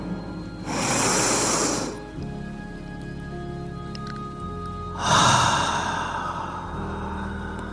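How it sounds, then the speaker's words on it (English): Two deep breaths come close to the ear as breathy rushes of air, the first lasting over a second and the second rising more sharply, with quiet pauses between during guided breathing. "And another inhale."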